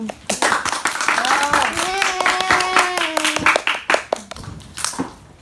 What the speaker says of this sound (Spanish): un fuerte aplauso, amigo, para el grupo.